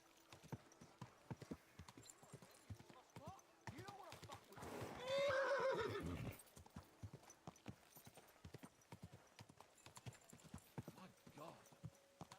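In the video game Kingdom Come: Deliverance II, a horse gives one clear whinny amid steady hoof clip-clops, with faint background sounds around it.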